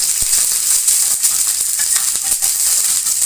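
Garlic sizzling in hot oil in a small ladle or pan, a steady bright crackle with scattered pops and light clicks, fairly loud and close, no talking.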